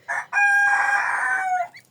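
A restless rooster crows loud and close near goslings and down-feathered hens: a short opening note, a brief break, then one long sustained crow that fades out.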